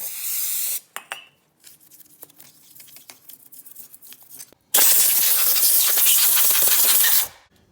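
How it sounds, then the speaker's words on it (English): Two bursts of carburetor cleaner spray hiss loudly, a short one first and then a longer steady spray, with quiet handling noises between them, cleaning Arctic Cat 400 engine parts. "spray a little bit of carburetor cleaner on them"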